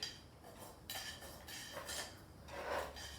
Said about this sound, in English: Just going to go around the sides and loosen all of the roots that are up against the side of the pot.